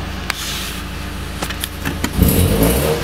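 A Nissan 240SX with a KA engine idles nearby in a steady, loud rumble, a few sharp clicks and clanks over it, then the engine note swells and roughens as it is revved near the end.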